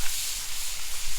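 Meat and onions sizzling on a hot Blackstone griddle, a steady bright hiss running throughout, close and fairly loud, with no talk.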